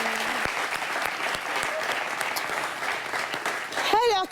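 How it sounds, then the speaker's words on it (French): A studio audience claps steadily through a comedy talk show segment, a thick continuous round of applause, with a brief whoop or voice rising near the end. "applaudissez pour vous."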